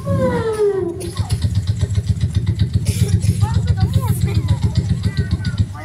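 A storyteller's voice imitating a scooter engine with rhythmic, pulsing buzzing that revs along steadily, close and loud, after a brief rising vocal whoop.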